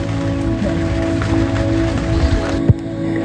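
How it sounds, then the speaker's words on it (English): Steady rain falling at a lakeside nature spot, a dense continuous patter close by with a single louder drop-like tap near the end and no voices. "It's raining."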